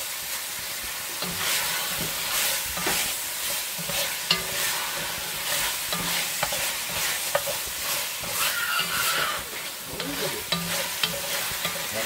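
Beef bourguignon stirred in a pot, a continuous sizzle under repeated scraping and knocking strokes of a spoon, close and steady throughout with no speech.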